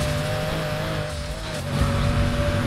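A Lamborghini Countach engine in the video game Need for Speed Heat roars steadily with a low droning tone, tire noise and a slight rise in revs toward the end; no voices.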